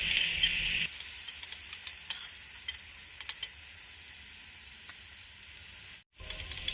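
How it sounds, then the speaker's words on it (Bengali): Cut tomato and potato with salt fry in a pan while being stirred, giving a steady hiss with scattered clicks and scrapes. The sizzle grows quieter after the first second and briefly cuts out near the end. "টমেটো আর আলু যে কেটে রেখেছি এগুলো দিয়ে নেড়ে চেড়ে নেব"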